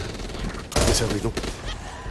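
Gunfire from the co-op zombie shooter Back 4 Blood erupts in a loud burst of overlapping shots partway through, following quieter game noise and fading into scattered echoes.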